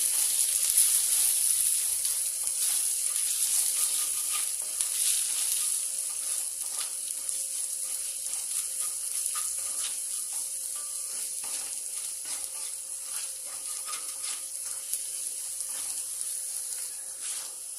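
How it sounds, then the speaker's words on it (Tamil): Spice powder fries in oil for a brinjal gravy with salt added, making a steady, even sizzle and hiss that runs the whole time with no talking. "பொடியோட பச்சை வாசனை போகிற வரைக்கும் நல்லா வதக்கும்"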